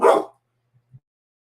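A single loud, close dog bark rings out, then quiet with a couple of faint soft thumps.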